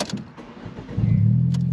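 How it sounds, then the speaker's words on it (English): A manual stick-shift car starting: the starter cranks briefly, then the engine catches and settles into a steady, loud idle rumble nearby. "You have to push the clutch in on this car to start it"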